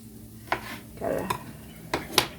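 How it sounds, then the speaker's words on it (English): Onions and garlic frying in a pan for a garlic chicken dinner, with a few sharp scrapes and clinks of a utensil stirring at intervals over a soft, steady sizzle. "stir my onions and garlic again. We don't want the garlic to get burnt"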